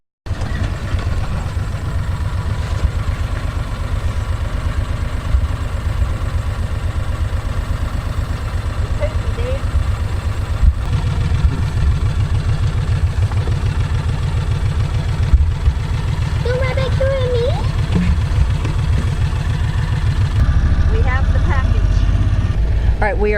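The engine of a Mule utility vehicle drones steadily and loudly throughout a ride, with its low, even rumble close by. Voices speak briefly over the running engine.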